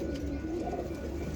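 Pigeons coo steadily and low in a breeding loft of Sialkoti-type breeder birds, a soft continuous murmuring that fills the short moment with no voices over it.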